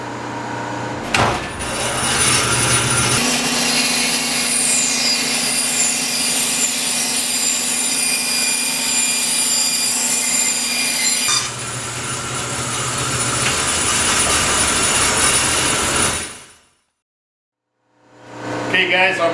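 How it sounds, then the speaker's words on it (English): A bandsaw cuts plywood for an aluminum foundry flask pattern, a steady loud whining drone running about fifteen seconds with a brief change in pitch midway, then cutting off into a short silence before starting up again. "So let me take this over to bandsaw."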